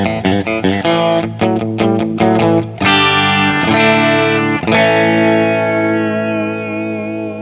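Distorted electric guitar on the bridge pickup of a budget Glarry Strat-style guitar, with a bright, biting tone: a run of quick picked notes, then two big ringing chords that sustain and slowly fade.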